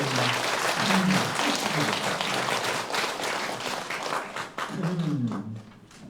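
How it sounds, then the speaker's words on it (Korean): A church congregation breaks into sustained applause during a Saturday prayer service, a dense wash of clapping that swells and eases over several seconds, with a speaking voice faintly beneath. "우리 부활하신 예수님께 감사의 박수를 여러분"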